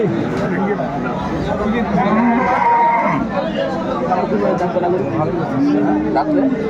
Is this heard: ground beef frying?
no